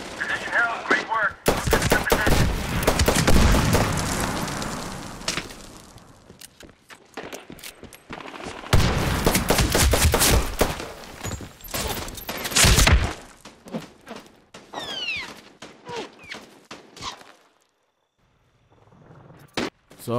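Rapid gunfire bursts and single shots from the video game Medal of Honor Warfighter, loud and close, separated by short gaps, with faint voices underneath.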